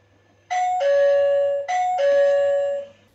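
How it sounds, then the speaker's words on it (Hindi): A two-tone electronic doorbell chime from a smart door lock rings twice in a row, clear and close, with no one speaking. "इस तरीके से इसकी डोरबेल रिंग होती है"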